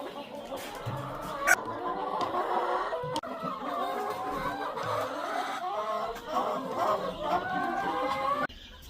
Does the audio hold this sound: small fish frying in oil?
no